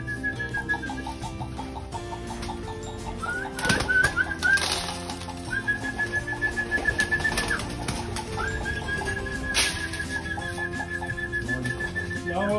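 Pigeons in a loft cooing and fluttering, with soft repeated bird calls and occasional wing flaps over a steady background hum, mostly faint and without talk.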